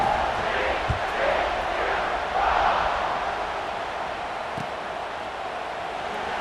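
Stadium crowd cheering in the video game College Football 26 during a kickoff, a dense, steady roar of many voices with a few faint thumps, loud and continuous with no gaps.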